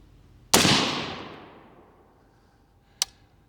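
A single sharp rifle report from 6 ARC ammunition fired at an outdoor range, loud and close with a long decaying echo, followed about two and a half seconds later by a fainter, brief crack of a distant impact or second shot.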